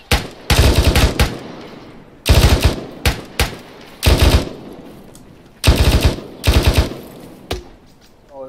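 Automatic gunfire in a military simulation video game comes in loud, close bursts of rapid shots, about half a dozen volleys separated by short pauses.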